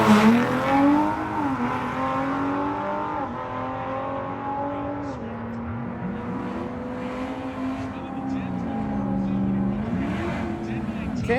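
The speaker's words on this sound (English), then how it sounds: "First time actually going down the track with the truck." A Dodge truck makes its first drag-racing pass down the track. A loud engine roars and revs through several gear changes with rising and falling pitch, accompanied by steady road and tire noise.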